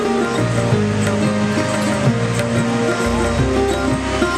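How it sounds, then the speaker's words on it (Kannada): Gokak waterfall swollen by days of heavy rain, a loud, continuous rushing roar of falling water that holds steady throughout, with a faint tonal layer underneath. "ಗೋಕಾಕ್ ಜಲಪಾತದ ವೈಭವ."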